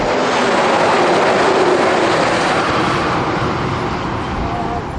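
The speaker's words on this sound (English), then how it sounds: "Come on, road train." A road train truck passes on a highway, labouring up a hill, a loud, continuous broadband roar and rumble that stays close and steady throughout, with no talk over it.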